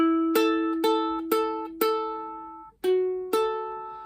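Seven clear plucked ukulele notes from the Luigi's Mansion theme, partly on open strings, ring out alone in a short, unhurried melody, each decaying before the next, with one held slightly longer.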